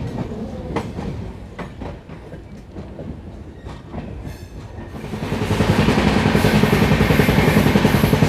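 The 12175 Chambal Superfast Express rolls onto the main line at Manikpur Junction. Its wheels clatter rhythmically at first, then give way to a louder, dense, steady rumble and rattle of carriages on the rails.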